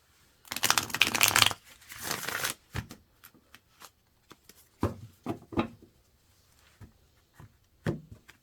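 A deck of cards is riffled and bridged in a loud rush, followed by scattered softer taps and card snaps spaced out over several seconds.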